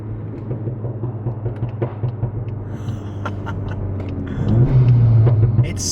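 A Ford Focus-type car on an iE Stage 1 Pro Tune idles and rumbles, then revs up, with a few sharp exhaust pops and crackles over the deep engine drone; close and fairly loud, no speech.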